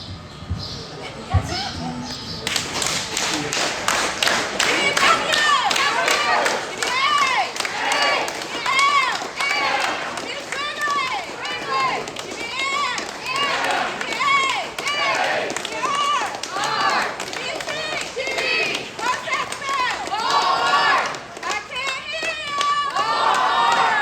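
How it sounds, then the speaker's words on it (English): Crowd at a Roxboro community service event performing a Walmart cheer, loud group chanting and shouting in rhythmic bursts with hand clapping running steadily throughout, close and energetic. "I'd like to have everyone participate in a Walmart cheer with us."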